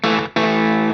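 A Line 6 DL4 MkII delay pedal on its double track setting thickens a sustained, distorted guitar chord into a doubled, tape-like sound; the note cuts off briefly and then strikes again loudly.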